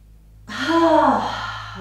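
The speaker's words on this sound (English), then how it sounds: "I'm using sound on purpose, so a big clearing breath" A big audible clearing breath exhaled on purpose during a beginner vinyasa yoga class, one loud, close, breathy sigh with a voiced tone, starting abruptly and trailing off over about a second and a half.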